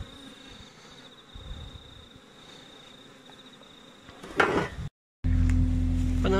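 Honeybees droning around a hive entrance while being smoked inside, a soft continuous buzz with a few nearby rustles and a thump before a louder mechanical noise cuts in.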